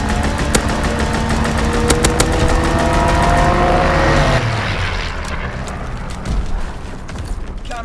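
Strafing run in the Call of Duty WWII game: a loud, dense roar of a fighter plane sweeping past with rapid sharp gunfire bursts, then a falling engine drone and rumbling explosions trailing off.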